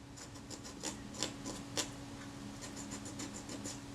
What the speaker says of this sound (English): Just rubbing at this with a wooden toothpick